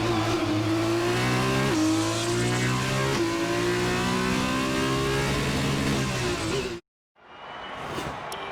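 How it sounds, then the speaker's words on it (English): A Formula 1 car in F1 2020 screams down the final straight in Baku with DRS open, loud and close, engine pitch climbing in steady stepped upshifts before a sudden cut and a brief return of engine noise. "Here we go on the final straight, taking the DRS"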